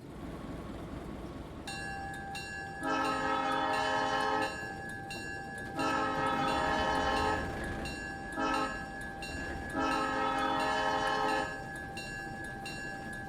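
An ALCO RS-1 diesel locomotive in the Railroader video game idles with a steady low engine rumble, broken by several long, loud horn blasts of varying length.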